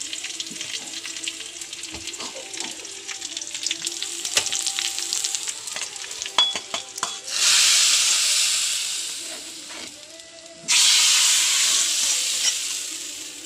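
Sliced onion, curry leaves and chili with spice powder fry in hot oil in a pan for egg curry, a steady close sizzle with stirring clinks early on, then two loud bursts of hissing steam.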